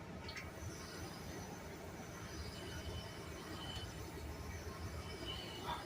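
A long LA Metro train passes in Santa Monica with a low, distant rumble and faint wheel squeal, a quiet steady roll throughout.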